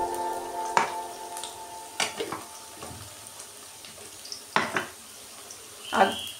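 Potatoes fry in hot oil in a pan, a faint steady sizzle broken by a few sharp clinks and scrapes of a utensil against the pan, with no talking.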